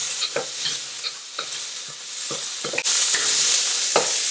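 Peas and carrots stir-fry in a hot pan with a splash of soy sauce, a continuous sizzle punctuated by spatula scrapes and taps, swelling into a brighter, louder hiss partway through.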